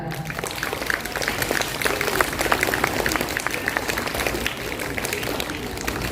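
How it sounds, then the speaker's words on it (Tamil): An audience claps at a school gratitude day celebration at Little Flower School in Pallikonda, a dense, continuous patter of many hands that holds steady for several seconds with no speech over it. "கைத்தட்டுங்க நல்லா"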